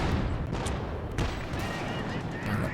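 Shots from a .55 calibre anti-tank rifle used as a sniper weapon in a World War II strategy video game, a few sharp cracks standing out over a dense, constant battle din of distant gunfire.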